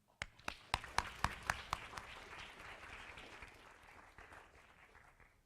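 An audience at a university lecture breaks into applause for the speaker, starting with a few sharp individual claps that swell into sustained clapping and then slowly taper off.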